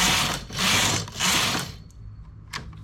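A knitting machine carriage slides across the needle bed in three loud whooshing strokes, each about half a second long, followed by quieter clicks and a short sharp knock.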